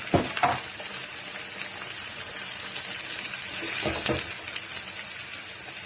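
Green bean fritters frying in a pan of hot oil, giving a steady, close hiss of sizzling with a few brief bubbling bursts and soft clatters from handling.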